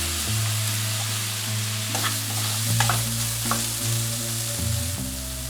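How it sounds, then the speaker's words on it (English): Ground pork frying with fish sauce, salt and pepper in a pan as a filling for Thai coconut pancakes, a loud continuous sizzle with repeated spatula scrapes while stirring, no talk. "Stir for 3 minutes."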